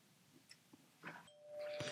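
A bell rings at a school quiz competition to end the answer time, one bright tone after a few faint clicks, held steady near the end of the clip.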